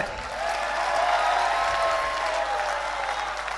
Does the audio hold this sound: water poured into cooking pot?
no